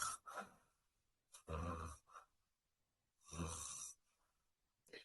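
A voice imitates a child's congested breathing: open-mouthed, snoring and sniffling breaths in a few separate bursts with quiet gaps between them, close and soft.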